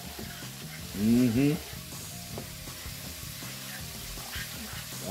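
Brown sugar and butter sizzle steadily in a pan, a constant hissing fry with a brief murmured voice over it.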